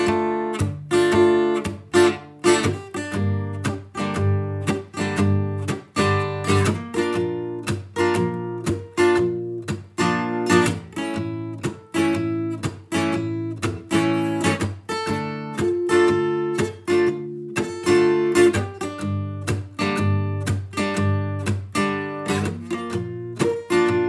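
An acoustic guitar strums chords from a song in a steady, rhythmic pattern, close and full, playing alone without talking for the whole stretch.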